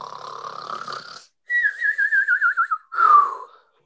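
A voice imitating a father's snoring during a storytelling session: a long breathy inhale, then a wavering whistled exhale, then a short rasping snort, all close and clear.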